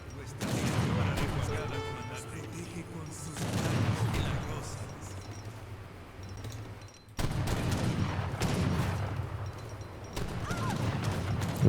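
Musket and rifle volleys crackle in an Age of Empires 3 battle, repeated bursts of gunfire layered over busy game sounds, with a commentator talking throughout.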